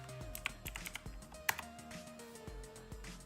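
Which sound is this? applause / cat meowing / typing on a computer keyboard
typing on a computer keyboard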